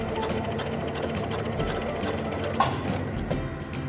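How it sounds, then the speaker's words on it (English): A sewing machine stitches across the bottom edge of a fabric pocket, a steady rapid mechanical clatter of needle and gears running without pause. "continue stitching across the bottom edge of your pocket"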